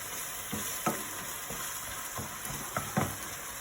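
Garlic for Greek moussaka sizzles steadily in a hot pan, with occasional sharp scraping taps of a utensil stirring it, close and clear.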